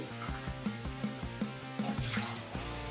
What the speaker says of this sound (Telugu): 2 గ్లాసులు నీళ్లు పోసుకోవాలి.